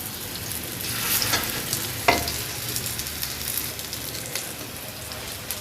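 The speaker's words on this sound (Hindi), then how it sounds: "मैंने एक फ्राई पैन में ऑयल डाल दिया और ऑयल गर्म हो गया है, तो अब हम इसमें टिक्कियाँ डाल देंगे।" Moong dal tikkis sizzle steadily in a shallow layer of hot oil in a frying pan, a close, even crackle with a few sharper pops and spits.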